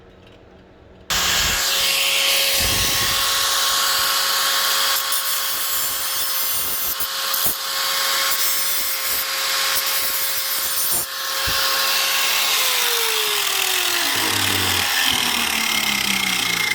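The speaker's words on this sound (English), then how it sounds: "Just got to grind it until you see nice clean metal all the way around the rivet." An angle grinder cuts the rivet heads off a metal HVAC duct register. Its loud, steady, high whine runs continuously for about fifteen seconds, then the pitch drops as the disc spins down near the end. No one speaks.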